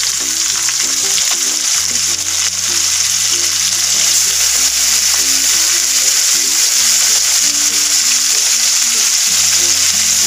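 Strips of beef marinated in soy sauce and pepper sizzle and fry steadily in a pan for a beef broccoli gisado. The frying is loud and continuous throughout, with occasional stirring and no talk.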